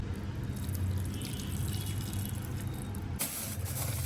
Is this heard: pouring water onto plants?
yes